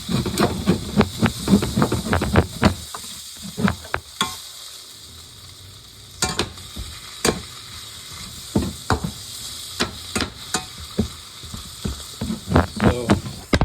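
Salmon sautés in sesame oil in a pan, a steady close sizzle broken by repeated scraping and stirring strokes that come in quick clusters with quieter pauses between them.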